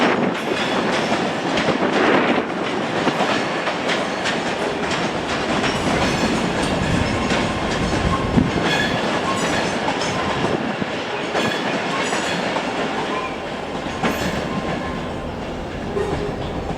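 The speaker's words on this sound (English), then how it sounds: "And here comes 385110 with the 12:55 Scotrail service from Dunk Lane." Scotrail class 385 unit 385110 arrives at Edinburgh Waverley with rolling wheel rumble, clickety-clack over rail joints and occasional squeals, loud and sustained as it draws in, easing slightly toward the end.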